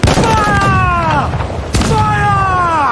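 Ship cannons fire during a naval battle in Assassin's Creed IV Black Flag, with a deep boom bursting out midway over a dense, rumbling battle din and drawn-out shouting voices.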